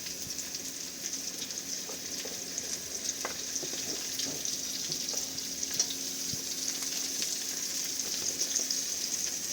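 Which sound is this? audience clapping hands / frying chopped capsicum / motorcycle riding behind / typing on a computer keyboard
frying chopped capsicum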